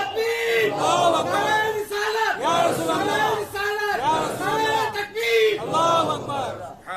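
A large crowd at a religious gathering chants a slogan in rhythmic, repeated call-and-response bursts, loud and roaring.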